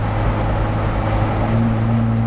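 A car fitted with a Magnaflow 17143 muffler cruises at highway speed around 2,000 RPM, giving a low, steady exhaust drone with a faint constant hum and no speech.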